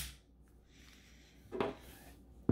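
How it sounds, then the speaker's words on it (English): A Spanish 6.35 mm pistol is dry fired, giving a faint sharp mechanical click with a second brief click at the very end, in an otherwise quiet room. "Then we will dry fire."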